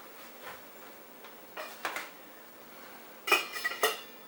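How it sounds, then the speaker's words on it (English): A metal lid clinks and rattles against a pot of cooking macaroni on the stove, a few soft knocks followed by a louder cluster of close clanks near the end, with no talking. "I'm going to cover it, but I'm going to leave the lid open a little bit so it doesn't boil over"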